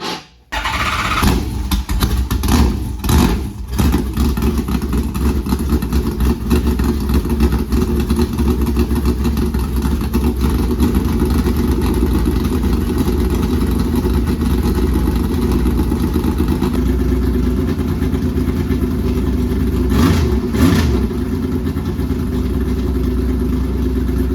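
A Tour Modified race car engine runs loudly and close in a shop after repairs. It holds a rough, powerful idle and surges in revs throughout, with a few sharp blips early on.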